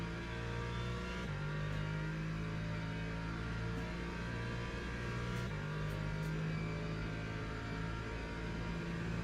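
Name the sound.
hypercar race cars accelerating on track at Fuji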